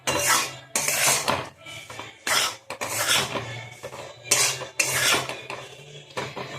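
Sattu (gram flour) being stirred and roasted in a pan, a metal spoon scraping and rattling against the pan in bursts of rough strokes with short pauses between, close and loud, no talking.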